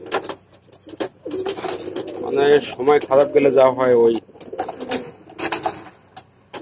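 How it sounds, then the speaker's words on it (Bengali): Frightened pigeons coo in repeated soft throaty rolls under someone speaking Bengali, close by, with faint rustling and chirps around them. "অনেক ভয় পাচ্ছে কবুতর"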